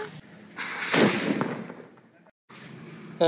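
A Diwali firecracker goes off with one sharp, loud burst that rings out and fades over about a second, followed by a brief silence and then people talking nearby.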